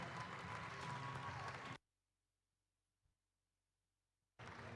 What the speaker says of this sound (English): I heard some cheering from that side